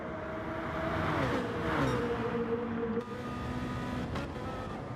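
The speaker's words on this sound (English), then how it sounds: "Gaggle of 4 BMWs heading down this start-finish straight." Four BMW race cars run down the start-finish straight of a circuit, giving a steady, moderately distant engine drone whose pitch bends downward as they pass.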